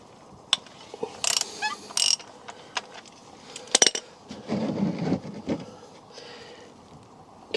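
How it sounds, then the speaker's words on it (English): Ratchet wrench clicks and clatters on the oil drain plug of a Ford Fiesta EcoBoost, with metallic taps, a brief tool clink and a few scraping mechanical sounds, close and fairly quiet, with no voices. "just get your 30mm ratchet on the oil drain plug here"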